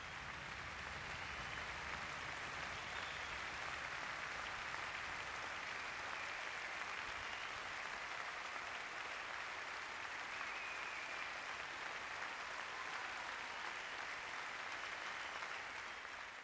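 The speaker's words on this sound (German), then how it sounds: "Die Zuschauer sind begeistert und zeigen das auch mit einer Standing Ovation" A large audience at Basel Tattoo 2014 gives a standing ovation, a dense, even wash of applause that holds steady without a break, heard from a distance and fairly soft.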